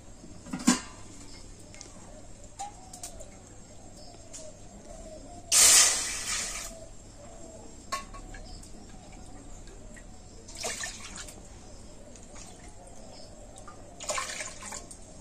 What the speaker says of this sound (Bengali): এই বাটি মেপে আমি 3 বাটি জল কড়াইতে দিয়ে দেবো